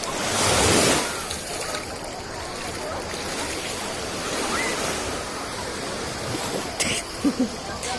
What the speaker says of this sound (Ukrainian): Море балується зі мною. Хоче забрати в мене тапки.